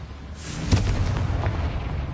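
A Confringo blasting-spell explosion in the Hogwarts Legacy video game, a sudden booming burst that rolls into a rumbling decay lasting under two seconds.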